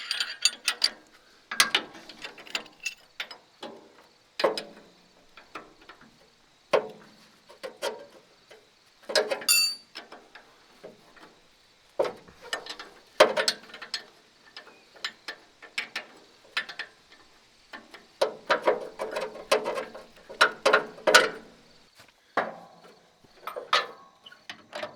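A hand ratchet clicks in irregular bursts as bolts come off a flail chopper during a rebuild. The ticking is close, with short pauses and some clunks between runs.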